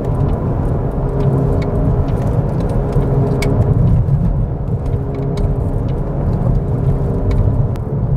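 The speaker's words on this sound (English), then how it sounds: "the noise should change as you're shifting the weight of the vehicle on and off that wheel" Volkswagen MK7 with a bad wheel bearing, heard from inside as a loud steady low rumble and road drone while driving, with faint clicks above, no talk.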